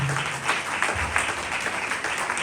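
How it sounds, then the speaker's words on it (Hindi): A congregation at a Sunday worship service applauding, a continuous wash of clapping with a low hum underneath, steady and fairly even throughout. "आइए खुदावन के जलाल के लिए जोरदार तालियां बजाते हैं।"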